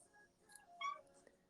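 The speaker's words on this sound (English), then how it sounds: "And you can hear my cat screaming still." A house cat meows loudly from another room: one brief, strained yowl, faint and distant against a quiet indoor background.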